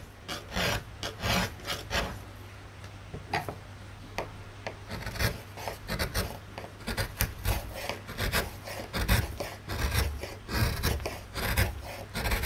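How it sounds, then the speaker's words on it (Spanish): Gouges carving a woodcut printmaking block, giving repeated close scraping and rasping strokes in an uneven rhythm, with a steady low hum underneath and no talking. "Hay distintas herramientas, estas se llaman gubias. Uno va tallando, tallando y tallando."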